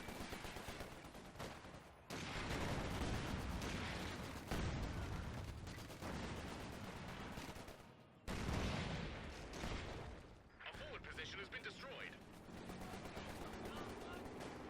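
Machine gun fire in Company of Heroes 2, near-continuous rattling bursts of automatic gunfire with brief pauses between volleys and other battle noise underneath.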